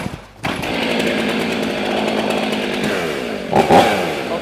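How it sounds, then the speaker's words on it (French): A chainsaw, started using its decompression button, fires after a brief pull and roars up to a loud, buzzing run close to the microphone, with a sharp rev burst near the end. "Je vais démarrer ma tronçonneuse."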